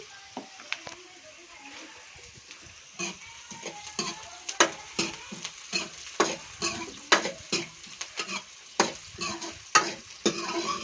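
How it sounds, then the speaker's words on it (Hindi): Tempering spices (tadka) sizzle and crackle in hot oil on an old-style stove, with rapid stirring scrapes and pops growing busier and louder as the pan keeps going. "और देखो अपना तड़का"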